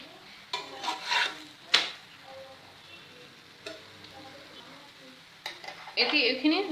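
An aloo paratha fries in a pan with a soft background sizzle, broken by several scraping, clattering flips and spatula knocks and a louder burst of sizzling at the end.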